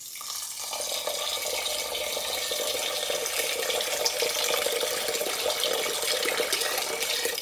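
Water is poured into a pot for cooking basmati rice, a continuous, bright splashing rush that stays loud and steady throughout with no talking.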